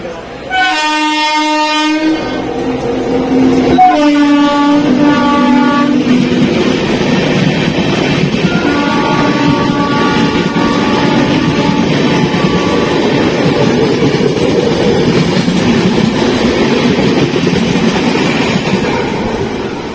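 Loud horn blasts sound as a train overtakes a MEMU on an Indian rail journey, then a sustained roaring rumble of the passing train continues close by.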